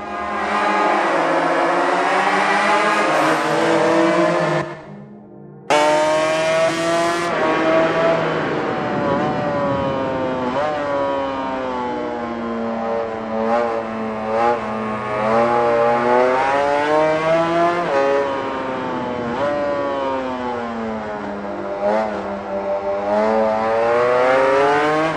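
Honda NSR500 two-stroke 500cc racing motorcycles from 2000 in MotoGP 19 on a victory lap, their engines buzzing and revving continuously with rising and falling pitch, loud and close, with a brief drop-out near the start.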